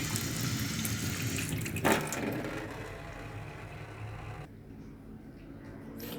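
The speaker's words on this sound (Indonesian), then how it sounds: "Ini sudah tidak menghambat sekali dan sudah lancar airnya." Water running and draining freely through a just-unclogged bathroom sink, a steady close rushing flow that carries on continuously and turns softer and thinner near the end.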